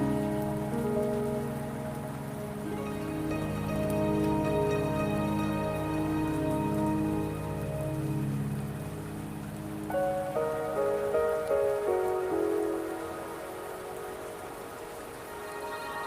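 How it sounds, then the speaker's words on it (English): Rain falls steadily in the Wuthering Waves video game, a constant hiss of drops on surfaces running beneath a layered musical score that shifts partway through, with no voices heard. "Don't worry, the rain won't last much longer."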